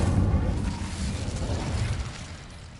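A fiery Incendio spell burst in Hogwarts Legacy, a deep whooshing roar of flame that swells at once and slowly fades over a few seconds, loud and close with no talk.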